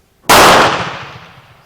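A single sharp shot from a 1969 Romanian IMC .22 caliber training rifle cracks loud and close, then fades in a short echoing tail.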